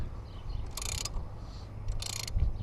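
A socket wrench on a 2003 BMW 330i oil filter housing gives two quick ratcheting bursts, close and crisp, over low background rumble.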